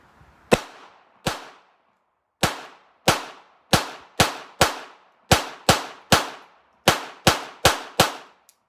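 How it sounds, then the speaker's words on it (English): A Beretta 92FS fitted with a .22 LR conversion kit fires Aguila pistol match ammunition at a range, producing about fourteen sharp, close cracks in a steady, fairly quick semi-automatic rhythm, each with a short ringing decay and no talking. "92FS with a 22 LR conversion kit, and I'm shooting some Aguila pistol match ammo"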